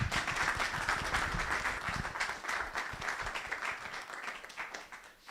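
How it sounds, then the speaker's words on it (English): An audience at a tech conference talk on headless CMS architecture claps to welcome a speaker, dense sustained applause filling the room, loud and even, slowly thinning toward the end. "give him a round of applause"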